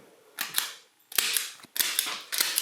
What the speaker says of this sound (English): I only have this shitty stapler gun, so this might be a little bit difficult because it's pretty bad.